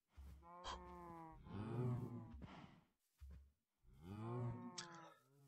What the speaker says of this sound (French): Il y a beaucoup de vaches.